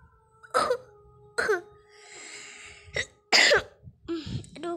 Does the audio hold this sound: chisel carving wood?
no